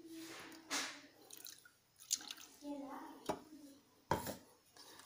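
Wet sloshing and irregular dripping as a ground ragi mixture is poured through a white cloth for homemade baby food, close and intermittent, with a few sharper splashes and soft handling noises.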